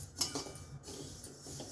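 Sesame seeds are stirred in a hot wok over medium flame, with a brief metal spoon scrape and clink against the pan followed by soft rustling of seeds, quiet and close.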